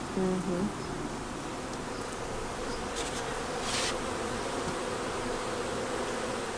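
A dense, steady buzz of many clustered honeybees in an urban garden in Brooklyn fills the whole stretch, close and continuous, with a faint higher hiss drifting through partway.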